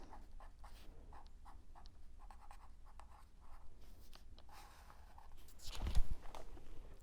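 A pen scratching on notebook paper in soft, repeated strokes, faint and close, with a louder rustle near the end.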